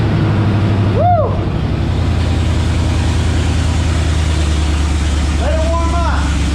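A Chevrolet C/K 1500 Silverado truck engine idles steadily as it warms up, a loud continuous low rumble throughout, with brief whistling or squealing sounds around the start and near the end.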